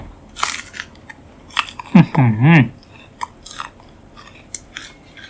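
A crunchy fruit with a single seed inside is bitten and chewed up close, giving a few sharp crisp crunches followed by a short burst of wet chewing, with quiet pauses between.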